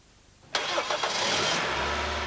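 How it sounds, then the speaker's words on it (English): A Toyota Celica T23 with a 1ZZ or 2ZZ four-cylinder engine cranks and fires up during a coolant refill, a sharp starter catch followed by the engine settling into a steady, close idle. "With the cap and the plug removed, start the engine."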